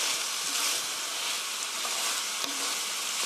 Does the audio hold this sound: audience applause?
no